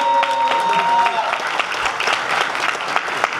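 A short burst of crowd clapping at a San Gabriel Valley caucus program, a hall of people applauding while tones ring and a voice briefly sounds underneath.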